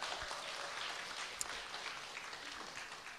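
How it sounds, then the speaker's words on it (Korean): A church audience at a praise concert claps together, a faint, steady patter of many hands lasting a few seconds, heard from a distance without voices. "박수도 치고"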